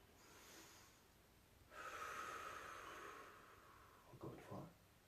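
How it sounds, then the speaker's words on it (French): A slow, deep breath drawn in through the nose and let out through the mouth during a relaxation exercise, soft and close, with a longer airy exhale followed by a brief sniff. "Tu vas prendre une profonde respiration par le nez. Tu vas expirer par la bouche."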